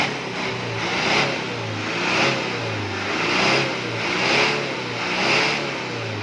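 Car engine revving repeatedly to about 3,500 RPM, in steady rises and falls roughly once a second, loud and close with a smoky exhaust, no voices.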